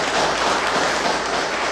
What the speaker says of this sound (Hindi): चलो प्रभु के लिए जोर से हम लोग ताली बजाएंगे